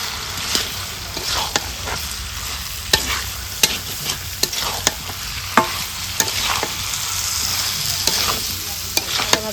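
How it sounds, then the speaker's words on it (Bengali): Raw jackfruit cooked with meat fat and spices is stir-fried in a pan, giving a steady sizzle broken by frequent sharp scrapes and clatters of the spatula in an irregular rhythm, close and clear with no talking. "এবারে দিয়ে দিব হেঁচড়টাকেও ভালোভাবে কষাবো।"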